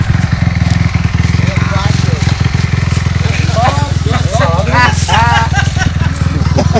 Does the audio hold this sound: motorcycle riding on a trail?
yes